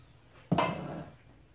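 A cooking pot is set down during corn cake batter preparation: a single sharp, fairly loud clunk with a short ringing tail, alone in a quiet kitchen.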